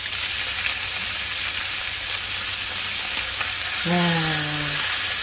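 Duck steak searing in a hot pan over medium-high heat, fat rendering with a steady, loud sizzle throughout; a short exclamation of delight cuts in near the end.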